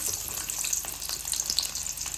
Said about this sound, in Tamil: கடுகு வெடிச்சதும் நம்ம நறுக்கி வச்சிருக்கிற வெங்காயம்